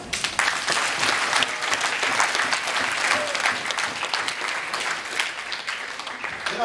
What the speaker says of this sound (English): So please give a nice round of applause to everyone who participated in